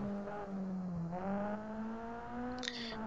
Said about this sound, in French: ça ressemble à des bruits de moteur